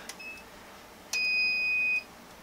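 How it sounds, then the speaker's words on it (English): A Circuit Specialists triple output power supply gives one steady electronic beep of just under a second, loud and close, after a faint brief chirp and over low room hiss. "if you run a power cycle on the machine, you will get the beep again"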